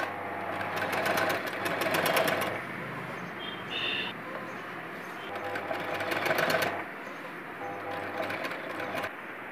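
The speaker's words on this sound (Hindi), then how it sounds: "हमें इधर किनारी किनारी सिलाई लगाना है" A sewing machine runs stitches along the edge of an embroidered blouse back neck, in two bursts of rapid whirring with a short pause between them, the stitching clear and close.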